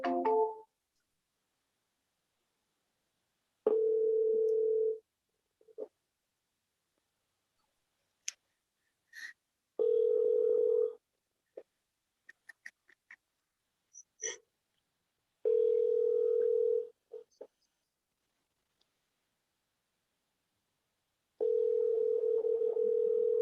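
Outgoing telephone call: a brief dial tone, then four evenly spaced ringback tones a few seconds apart, separated by silence and a few faint clicks.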